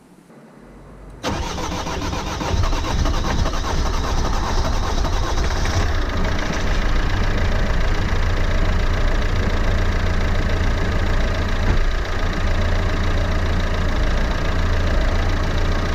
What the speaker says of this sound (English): which means it's time to start the engine.